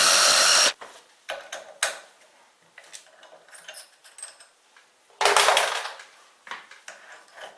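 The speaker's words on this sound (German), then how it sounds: "wir haben uns unseren schönen Anbohrer eingespannt und bohren wir jetzt einmal locker rein." Short bursts of metallic grinding and cutting as a centre drill bites into metal, separated by quieter clicks and tool rattles, close by.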